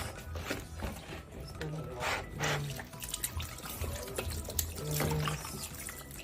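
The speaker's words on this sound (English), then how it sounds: "rinse it to remove the sliminess" Catfish is rinsed by hand in water, with continuous sloshing, rubbing and trickling at close range.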